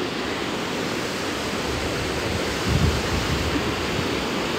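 The Storforsen rapids in Sweden roar with massive rushing water, a dense, constant broadband wash with wind buffeting the microphone and a brief low surge near the end, no voices present.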